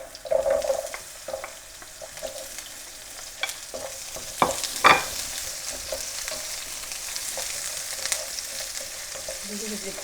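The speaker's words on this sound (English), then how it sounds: "And what we'll do, we'll fry our onions first." Onions frying in oil in a deep frying pan, a steady close sizzle with several sharp scraping stirs and clatters of a utensil against the pan, no talk.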